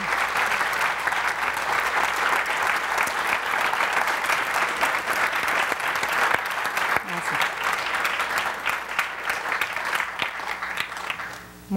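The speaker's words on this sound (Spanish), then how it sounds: "Estoy muy emocionada por esos aplausos" An audience applauds to welcome a Cuban blogger onto the stage, sustained loud clapping from a full room with scattered voices underneath, tapering off at the end.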